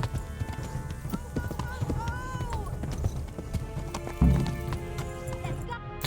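Horse hooves clip-clopping with a whinny in the medieval video game Kingdom Come: Deliverance, steady under someone talking, with a louder thud near the end.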